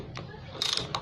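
A ratchet wrench clicks as it tightens, giving a few short, crisp bursts of clicking close by over a low background hum.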